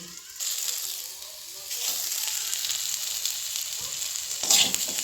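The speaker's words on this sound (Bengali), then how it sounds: "হালকা আঁচে এটি একটু ভেজে নেব" Steady sizzle of new potatoes frying on low heat in a pan, a soft broadband hiss that swells a little midway, with a brief clatter near the end.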